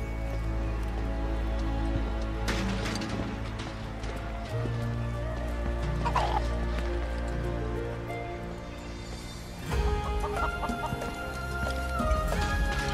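Chickens cluck in the video game Final Fantasy VII Rebirth, a few soft clucks sitting under a continuous bed of sustained game music and ambience.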